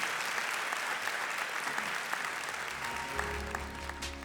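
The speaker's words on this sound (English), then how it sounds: "Let's give them another big round of applause." Steady applause from an audience at a startup pitch night, moderately distant and continuous, with a low hum and some tonal sound creeping in near the end.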